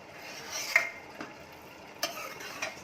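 A spoon stirring kadhi in a pot, with a soft continuous scraping swirl and a few light metallic taps against the rim, close and quiet, no talking.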